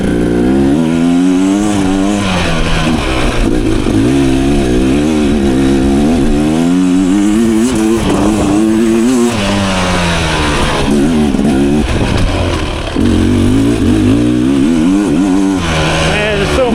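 A 2023 Beta Xtrainer cross trainer dirt bike engine revs hard and continuously up close, rising and falling in pitch as the throttle is worked, with a brief dip near the end before climbing again.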